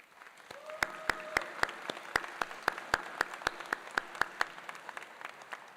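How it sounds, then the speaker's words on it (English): A ceremony audience applauds in a steady run of sharp, distinct claps that carry evenly for several seconds at moderate loudness, with no voices over them. "Zell, would you stand up so we can give you a round of applause?"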